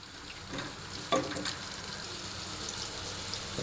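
Onions frying in oil for a pork caldereta, stirred in a pan: steady hiss of frying with a few scraping stirs and a sharp clink near the middle, fairly quiet and close.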